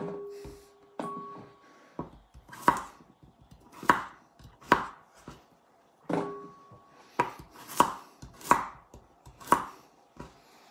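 Knife chopping vegetables into big pieces on a cutting board for a chicken pot-au-feu, two bursts of firm, evenly spaced thuds, about five or six cuts each, close and clear.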